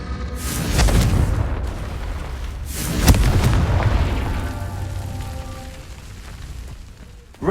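A Confringo fire spell exploding in Hogwarts Legacy, with loud booming blasts followed by a long rumbling, crackling decay, then another burst at the end.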